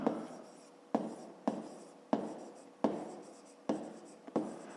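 A pen scratches across notebook paper in short strokes, six or seven distinct bursts that each start sharply and fade, close and quiet with no talking.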